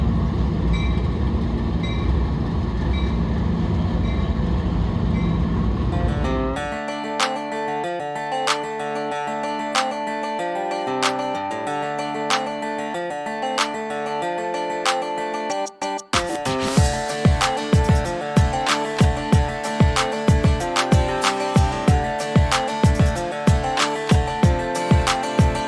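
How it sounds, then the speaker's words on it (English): A slow train rolls past the front of an apartment early in the morning in Kentucky: sustained horn-like tones at first, then close, loud, steady clickety-clack from the wheels as the cars pass. "Here comes another train, bright and early, slow and steady, right by the front of our Airbnb"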